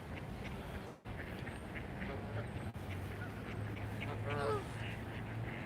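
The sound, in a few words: Canada geese honking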